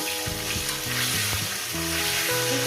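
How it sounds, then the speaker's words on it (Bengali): Potatoes and cauliflower fry together in a pan, with a loud, constant sizzle close up and faint tonal music running beneath it. "ফুলকপি দিয়ে আরও আমি পাঁচ ছ মিনিট ভেজে নেব"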